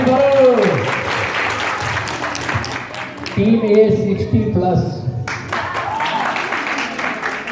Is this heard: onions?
no